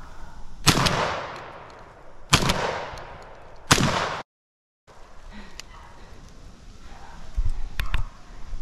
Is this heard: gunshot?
yes